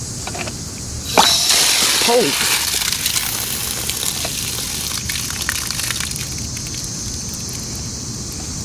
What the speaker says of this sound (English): This is water.